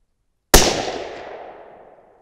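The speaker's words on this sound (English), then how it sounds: "All right, one more shot." A single rifle shot from a Thompson Center Compass fired with a 140-grain load, a sharp loud crack after brief silence, followed by a long decaying echo rolling out across open ground.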